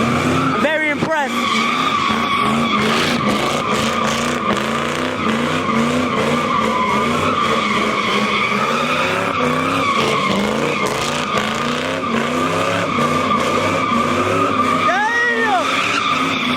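A Mustang packed with passengers drifts at a large Los Angeles car meet. Its tires squeal in long sustained skids over a revving engine, and a crowd talks and shouts throughout.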